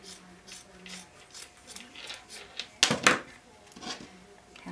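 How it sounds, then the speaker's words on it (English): Scissors snip through folded fabric strips at a sewing table, giving a couple of short, close crisp cuts around the middle amid soft rustling and handling noise. "and now I'm just cutting them"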